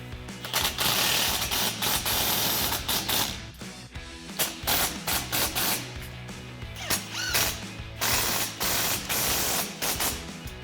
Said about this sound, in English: Now switch to a 13mm socket and wrench for your M8 bolts.